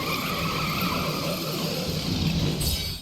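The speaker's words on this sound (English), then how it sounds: "Brynhilda transforms into an actual racing car." Racing car from a Final Fantasy XIII summon, Brynhildr in vehicle form, giving a loud continuous roar of engine and skidding tires that stays steady for about three seconds with no talk.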